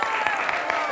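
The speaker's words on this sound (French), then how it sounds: "Applaudissements s'il vous plaît. Bravo." Guests at a celebration for a newborn baby give a brief, steady burst of applause, moderately loud and close.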